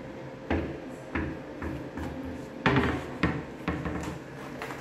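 Cabinet doors and drawers made of pre-laminated cement board (Bison panel) being opened and closed: a series of about seven distinct close thumps and clunks at irregular intervals, with no talking.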